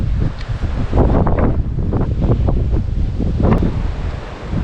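Gusty outdoor wind buffeting the microphone near Koro Dam, a constant roar with uneven low rumbling surges over about five seconds, no voices.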